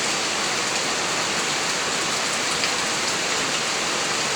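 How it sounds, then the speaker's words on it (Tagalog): Heavy typhoon rain pours down steadily in Biñan, Laguna, a dense, constant hiss of rain on surfaces with no voices. "Malakas na naman ang ulan."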